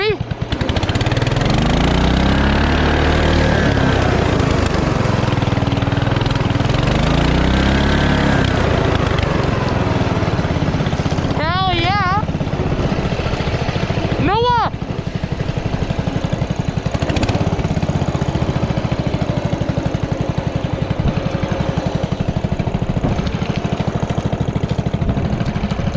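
A tractor mower engine runs steadily and loud throughout, with a rough mid-pitched drone and a couple of brief squealing sweeps partway through; a voice speaks over it.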